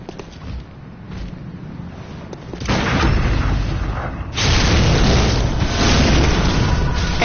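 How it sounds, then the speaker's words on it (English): In the game Bloodborne, a visceral attack on a giant lands as loud, heavy rumbling booms that swell and hold, dense and close, with no talk. "That's how you visceral a giant."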